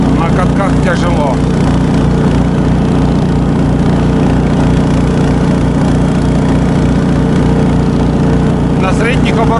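A vehicle engine runs steadily at medium revs during a winter trip to check marten traps, a loud, continuous drone with a person speaking over it.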